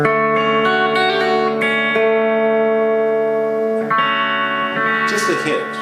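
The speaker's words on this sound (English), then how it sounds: "I just add a little touch of reverb to it." An electric guitar played through a Mooer mini reverb pedal set for light reverb, sustained chords and notes ringing with a short, subtle tail, close and clear.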